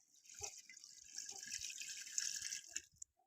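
Water poured from a container into a cooking pot for a mutton katwa gosht: a steady, hissing splash runs for about three seconds with a few thuds, then stops abruptly, close and fairly quiet.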